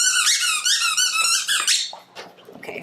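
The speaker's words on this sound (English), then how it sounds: "Okay, so the squeaky toy is probably the winner." A squeaky dog toy squeaks in rapid, repeated bursts, close and loud, then tapers into softer rustling and handling noise by the end.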